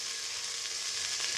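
Ginger sizzles steadily in hot oil in a pan, a close, continuous crackling hiss with no talking.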